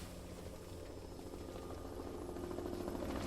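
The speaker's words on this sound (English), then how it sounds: "The helicopter now flies over the fire." Large firefighting helicopter flying over a fire, a faint steady rotor and engine rumble with a slight swell toward the end.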